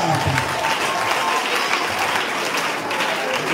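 A church congregation applauds and cheers in a sustained, dense wash of clapping that holds steady and loud from start to finish.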